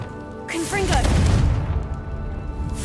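A Confringo fire spell from Hogwarts Legacy erupts as a sudden loud blast with whooshing, pitch-sweeping streaks, then settles into a low rumbling boom that lingers over steady background ambience.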